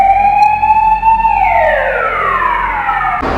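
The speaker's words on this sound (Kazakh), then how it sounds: "Міне дабыл соқты" A fire station alarm sounds as a loud, close, steady electronic tone that then slides downward in a long wailing sweep, ending abruptly, with no one speaking.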